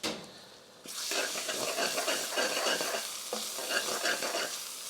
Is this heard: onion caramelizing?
yes